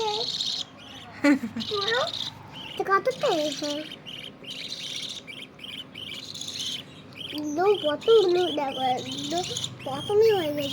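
A pet bird chirps and calls in short bursts, loud and close, with a few warbling phrases and brief pauses between them.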